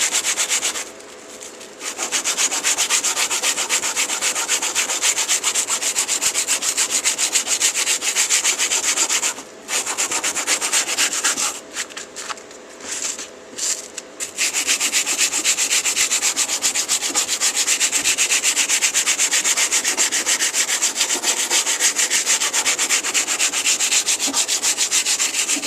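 Continuous hand filing or rubbing of steel on a soft-metal hatchet blade, a close, steady rasping stroke rhythm with a few short pauses.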